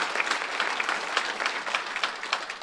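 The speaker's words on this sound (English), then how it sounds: "that applause was to welcome the director, the director of TRMC, George Rumford" An audience at the Autonomous Nation 2023 announcement event applauds to welcome the director of TRMC, a dense, continuous patter of many hands clapping at moderate distance.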